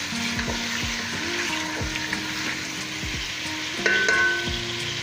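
Potato filling for aloo gujiya frying in a pan, a steady close sizzle with scattered scraping stir strokes from a utensil, continuing without any talk.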